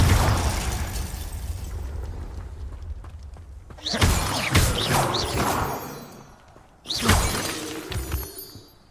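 Confringo fire spell blasts in the Hogwarts Legacy video game, two loud crashing explosions with shattering debris and rumbling tails, following a stretch of steady noisy rumble.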